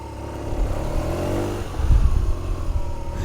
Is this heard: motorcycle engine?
yes